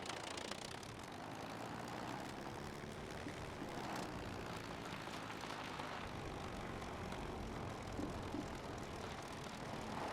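Propeller plane engine droning steadily in the survival video game Scum, a continuous hum with a slowly shifting pitch throughout, no talking over it.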